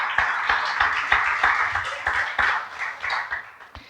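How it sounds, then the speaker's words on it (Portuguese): A church congregation claps for Jesus in a rhythmic, regular beat, close and sharp, with a faint voice under the claps. "Você pode dar um glória a Deus, dar uma salva de palmas para Jesus?"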